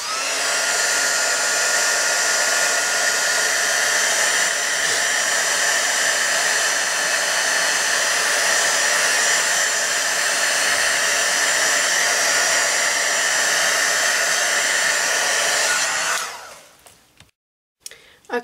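A handheld heat dryer blows over craft ink work, a loud continuous whirring drone holding steady for about sixteen seconds before switching off, followed by a few faint handling clicks.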